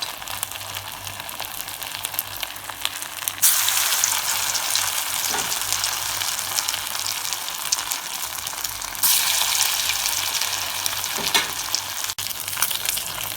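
Rice vada made with cooked rice sizzles steadily in hot oil in a home kitchen, a loud continuous frying hiss with brief surges as the pieces are stirred or shifted.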